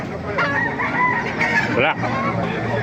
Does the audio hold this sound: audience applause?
no